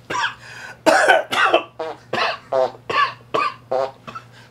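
A voice imitates a cough followed by a fart, done as a comic sound effect: a run of about ten short, sharp vocal bursts in an even rhythm, close and clear, with no other speech.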